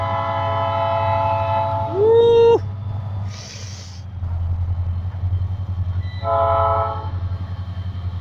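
GT26 diesel freight locomotive with a G22 unit hauling Urquiza cargo train near Chajarí, Argentina, rumbling past with a low engine drone, sounding short blasts of its horn followed by a harsh hiss and another horn burst, fairly close.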